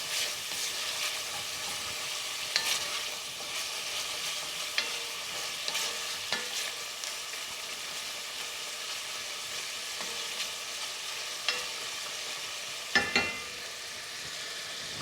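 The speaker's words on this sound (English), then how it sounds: "as you can see, the bacon is sizzling away." Bacon sizzles steadily in a hot pan, a continuous crackling hiss with scattered sharp pops and spits and no voices.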